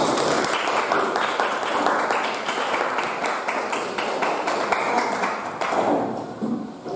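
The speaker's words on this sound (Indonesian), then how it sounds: "Tepuk tangan dulu untuk Melisa." A school class claps for a classmate, a steady, close burst of many hands applauding that runs several seconds and thins out toward the end.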